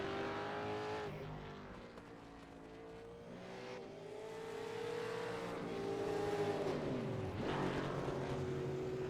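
A racing engine in the iRacing video game drones steadily during a Super2 Series race at Barcelona-Catalunya, its pitch sliding up and down as it shifts and revs, with a sharp dip and climb near the end.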